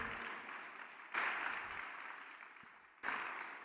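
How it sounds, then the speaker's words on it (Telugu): Church congregation applauding to praise God during a Telugu sermon, a steady wash of clapping that swells in two fresh bursts, fairly distant and moderately loud with no voices over it. "చప్పట్లు కొట్టి దేవుని స్తుతించండి"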